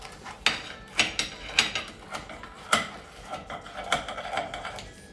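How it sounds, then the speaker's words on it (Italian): A knife cuts through the airy, hollow crust of a Sicilian pizza, producing a series of crisp, crackling snaps and crunches in an irregular rhythm, close and fairly quiet. "Adesso facciamo un'ultima prova col taglio del cornicione."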